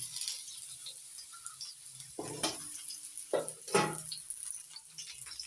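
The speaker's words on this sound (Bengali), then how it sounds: "আলুগুলো হালকা করে ভেজে নেব" Diced potatoes frying lightly in a pan with whole garam masala and five-spice seeds, with a soft background sizzle and a couple of brief, louder scraping stirs, close and quiet, no talking.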